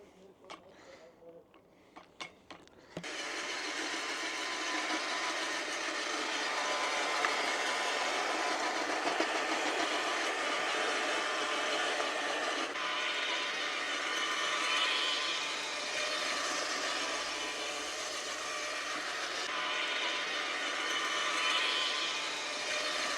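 A Milwaukee outdoor multi-tool with a rotavator attachment tills soil in an old flower bed, a loud, steady whirring drone that starts after a few seconds of quiet handling sounds and runs unbroken.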